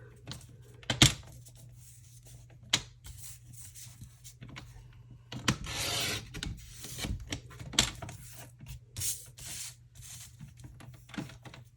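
Paper being trimmed for a handmade retro-style birthday card, with scattered scraping and rasping strokes and a few sharp close clicks over a low steady hum, no talking.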